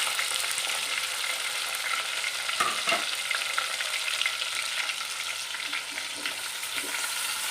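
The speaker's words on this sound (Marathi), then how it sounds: "आता आपण याला वांगी सोडूया तेलामध्ये।" Brinjals and green masala fry in hot oil with a constant close sizzle, broken by a few scraping stirs.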